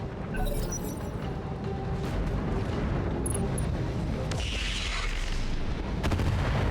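Mech weapons firing a volley in BattleTech with the RogueTech mod, among them a PPC, heard as a dense, continuous roar of booms and heavy impacts under a thick low rumble, loud throughout.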